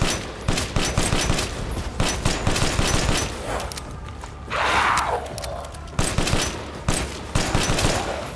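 Bursts of gunfire in the video game Resident Evil Village, loud and repeated in quick volleys with short pauses, one softer whooshing burst midway; no talk.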